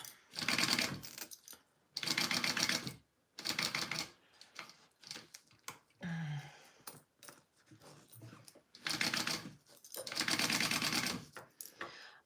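Sewing machine stitching a zipper onto bag linings in repeated bursts of rapid mechanical chatter, each run lasting a second or so, with short pauses and lighter handling noises between them.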